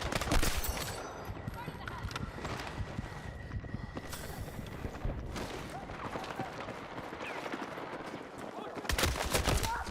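Rapid gunfire from synthetic tip rounds in Battlefield 6 crackles throughout, in dense bursts that swell loudest at the start and end, mixed with game noise and occasional talk.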